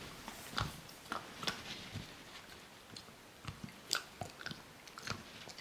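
A small dog of about 20 pounds gnaws a Greenies dental treat up close, producing irregular crunches, bites and clicks in uneven bursts against a quiet background.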